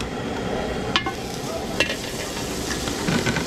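Pork belly being stirred with cooking oil and butter in a pan for a Pampanga catering job: a steady low sizzle of frying runs throughout, with a few sharp utensil clinks near the middle, fairly close.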